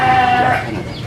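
Goat at a livestock farm selling sacrificial animals gives a single loud, close, wavering bleat lasting about a second.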